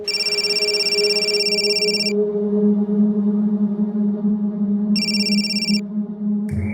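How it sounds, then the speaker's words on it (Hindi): A phone ringing in two electronic trill bursts separated by a pause, over a steady low hum. "तुम अभी अपने साड़ू अमित को फोन लगाओ"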